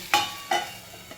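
Rice flour ghavane batter with chili and coriander hitting a hot covered pan, two quick, close bursts of sizzle that fade within about a second.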